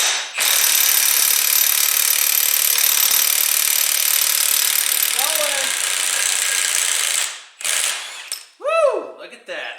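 Milwaukee cordless power tool runs continuously for about seven seconds, straining to break loose a dump truck transmission lock nut, then stops; a voice follows at the end.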